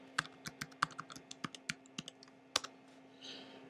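Rapid, crisp clicks of a computer keyboard as network settings are typed in, an irregular run of close, moderately quiet keystrokes with no talking.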